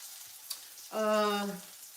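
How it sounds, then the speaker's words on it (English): Mushrooms with sage and black pepper simmer in a pan, giving a quiet, steady hiss throughout, briefly overlaid by a short voiced hum. "the mushrooms are good. They're gonna simmer for a long while."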